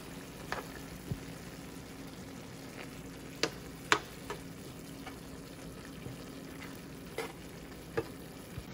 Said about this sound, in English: Now I'm gonna mix it all